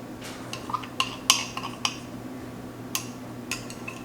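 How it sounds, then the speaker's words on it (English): A utensil scrapes and taps against a mixing bowl while leftover pound cake batter is cleared out. Several light metallic clinks and scrapes come at irregular intervals, close and moderately quiet over a low steady background hum. "I'm gonna just kind of scrape whatever I have left over out"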